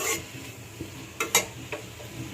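Green tomatoes fry in a pan with turmeric while a utensil stirs them, giving a soft, low sizzle punctuated by a few sharp scraping and clinking strokes against the pan, with no voices.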